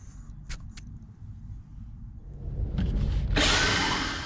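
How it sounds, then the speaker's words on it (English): A power drill bores a pilot hole through the floor of a van during a camper build, first a couple of faint clicks, then the motor winds up and grinds loudly into the metal. "I'm drilling a pilot hole."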